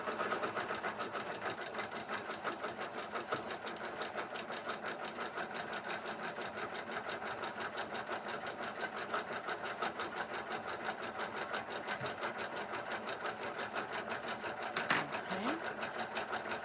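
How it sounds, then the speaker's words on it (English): An embroidery machine stitches in a workshop at a fast, steady mechanical chatter that runs throughout, moderately loud and close, with no voices over it. "Then I have some embroidery going and the DTF is printing."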